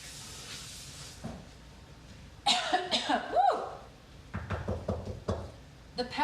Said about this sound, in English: The peppers will definitely make you cough.